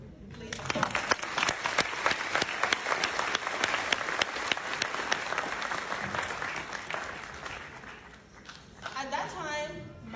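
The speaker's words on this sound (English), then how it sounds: "Please applaud." An audience at a graduation ceremony bursts into loud, sustained clapping that carries on for several seconds before fading out, with faint voices near the end.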